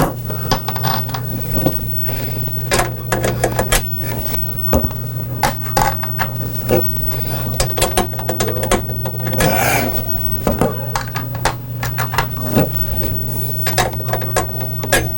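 Socket wrench working on a Bally Midway Mortal Kombat II arcade cabinet under restoration, loud close metallic clicks and clatters in quick irregular bursts over a steady electrical hum, with no voices.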